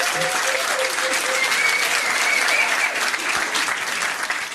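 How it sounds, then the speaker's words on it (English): A crowd claps steadily in a dense, sustained burst of applause that carries evenly throughout before tapering slightly at the end. "give him a round of applause for trying though."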